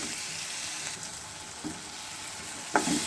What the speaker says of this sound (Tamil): தக்காளியை சேர்த்து நல்லா வதக்கிடுவோம்.